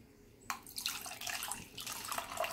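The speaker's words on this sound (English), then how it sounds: "So this would be your water, pouring it in this bowl over into a liquid measuring cup." Water is poured from a bowl into a liquid measuring cup in a kitchen. It starts abruptly and continues as a close, bright, splashing trickle, with no talking.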